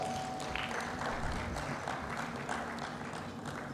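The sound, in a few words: audience applause welcoming a speaker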